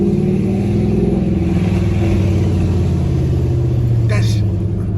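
Fifth-generation Chevrolet Camaro SS V8 fitted with long tube headers, heard from inside the car: a deep, throbbing low rumble steady under gentle throttle, loud throughout, with people talking over it.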